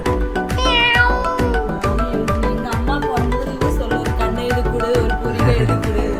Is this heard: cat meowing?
yes